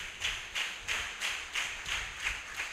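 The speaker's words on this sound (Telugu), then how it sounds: "గట్టిగా చప్పట్లు కొట్టి దేవుని నామాన్ని ఘనపరుద్దాం." A church congregation clapping loudly in unison, eight steady rhythmic claps about a third of a second apart, close and even in strength, with no talking.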